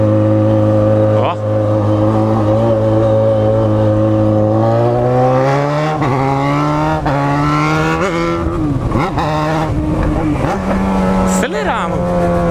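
A Yamaha XJ6 motorcycle with a straight-pipe exhaust revs loud and close, its engine note climbing and wavering through repeated throttle blips, while someone talks over it.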